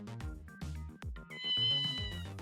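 A cat meows in a detective video game, a drawn-out, wavering meow heard over busy game music with low repeating notes.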